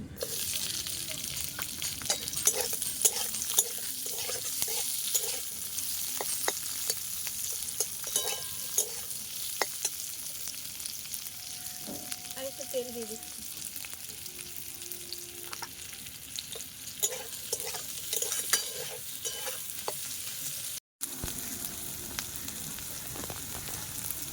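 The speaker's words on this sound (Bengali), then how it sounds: "তেল দিয়ে দিচ্ছি। লঙ্কা কুচি আর পেঁয়াজ কুচিটা ভেজে নেব।" Chopped green chili and onion fry in oil for chow mein, a loud sustained crackling sizzle broken by repeated spatula scrapes and clinks against the pan, with a brief drop to near silence toward the end.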